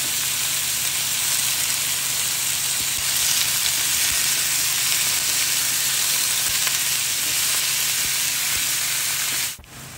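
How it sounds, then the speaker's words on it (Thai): Sliced pork dropped into a pan of golden fried garlic, sizzling loudly and steadily in hot oil, a constant bright frying hiss with occasional stirring, close up, before the sound cuts out near the end. "ขั่วกระเทียมเหลืองหอมแล้วเฮาก ็นำซีนหมูมาใส่"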